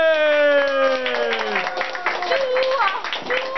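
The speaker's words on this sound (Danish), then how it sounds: "Skal vi lige give dem en ordentlig klap salve?" A school crowd claps for two performers at a primary school event, with a sustained voice or cheer ringing out at the start before the steady patter of many hands, alongside scattered voices.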